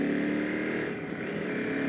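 Stock-exhaust motorcycle engine running loud and steady at close range, a constant rough throbbing drone with no pauses for the full two seconds.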